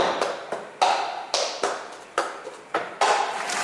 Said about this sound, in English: this is how the cup coordinations of rhythm will sound like